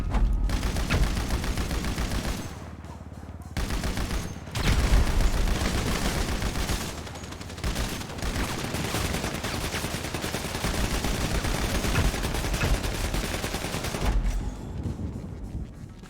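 LMG machine gun fire in GTA V: sustained, loud automatic bursts that run almost without break, with a couple of brief pauses in the stream of rapid shots.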